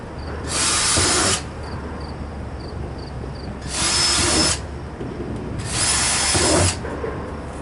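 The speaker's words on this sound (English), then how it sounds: "I'm going to drill a couple holes here" A power drill whirs in three separate bursts, each lasting about a second, drilling holes in a homemade compost tumbler, with quieter pauses between them.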